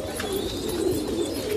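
Gulab Sira pigeons, an old Rajasthani breed, coo in a low, continuous murmur, several birds overlapping close by with faint rustling in the background.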